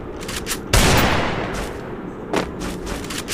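Gunfire in a shooter video game, with a loud burst of rapid automatic shots recoiling, followed by quieter scattered shots and another short burst, no talking.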